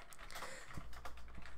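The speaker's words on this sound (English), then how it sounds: "You're typing." Someone types on a computer keyboard, a faint, uneven patter of key clicks with occasional louder taps over a low background hum.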